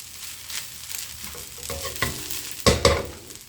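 Fried rice with Chinese sausage stirred in a hot pan: a soft sizzle under repeated scraping and clacking spatula strokes, louder knocks near the end, with no voices.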